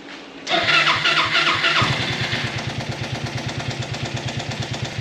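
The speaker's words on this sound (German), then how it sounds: "Ich finde auch jetzt so im Leerlauf, wie der Motor läuft, finde ich ziemlich cool." A dune buggy engine that had not run for two weeks sputters up, then settles into a loud, close, rough idle with a steady pulsing beat, no talking.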